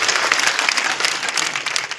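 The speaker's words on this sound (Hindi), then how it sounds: "एक बार जोरदार भारतीय जनता पार्टी की सरकार के लिए ताली बजाए" A crowd at a political rally claps loudly and steadily, a dense wash of many hands heard up close for about two seconds.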